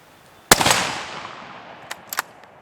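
A single loud Ruger American Scout rifle shot cracks and rolls away in a long echo, followed about a second and a half later by a few faint ticks, likely the round striking a steel plate target at a distance.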